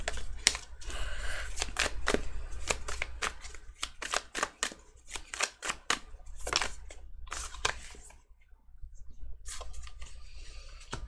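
Tarot cards being shuffled by hand, a dense run of quick, crisp riffling and slapping clicks in bursts, close and fairly soft, with a short pause before the shuffling resumes.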